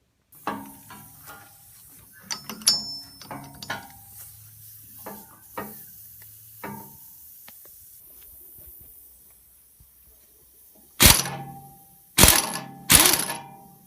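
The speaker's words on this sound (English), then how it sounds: "take a 1/2 inch drive socket and a long ratchet and break this loose" A long ratchet on a 1/2 inch drive socket works loose the generator pulley nut on a Ford tractor, giving sharp, close clicking pawl strokes in short bursts, then three loud heavy clacks near the end.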